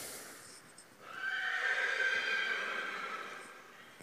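A Friesian horse gives a single long, high whinny during an inspection, rising at about one second and fading over several seconds, fairly faint against a quiet indoor background.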